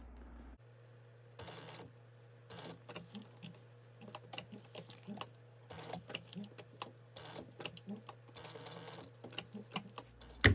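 A sewing machine stitches fabric for a bag in short, irregular runs of rapid clatter over a steady low motor hum, close and fairly quiet, with no talk.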